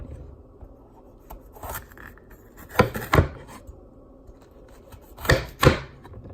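A knife slices through a bell pepper, giving two pairs of crisp cutting crunches, close and fairly loud, separated by quiet pauses in a kitchen with no talking.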